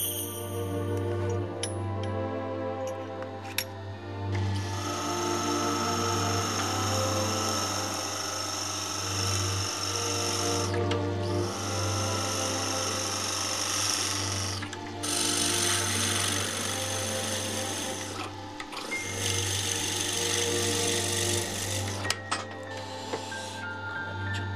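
Hand tools shaving and cutting a wooden fountain pen barrel in repeated long scraping strokes with short pauses between them, set against a steady low machine hum, with no voices.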